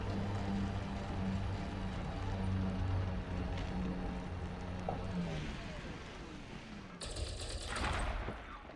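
Ship weapons in Elite Dangerous firing at a rock on a planet's surface, rapid repeated bursts over a steady engine hum, with a harsher burst of fire near the end; a voice talks over part of it.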